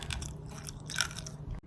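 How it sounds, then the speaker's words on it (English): A crunchy bite into a blended steak pemmican bar, one close, crisp crunch with a few smaller crackles around it, heard alone against quiet. "you can hear the crunch"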